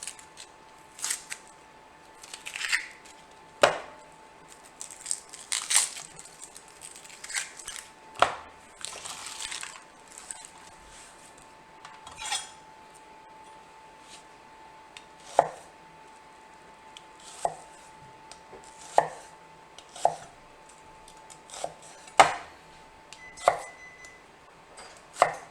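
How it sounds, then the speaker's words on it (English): A knife cuts a peeled red onion into eighths on a board with sharp, separate chops, some clustered and others spaced a second or more apart, close but fairly soft against a quiet kitchen background with a faint steady hum. "Next up is a red onion. Just going to peel and cut probably into eighths"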